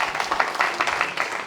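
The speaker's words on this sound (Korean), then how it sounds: "우리 박수로 좀 환영할까요?" A church audience applauds to welcome a visiting speaker from the International Mission Board, a steady wash of many hands clapping at moderate volume, with no voices standing out.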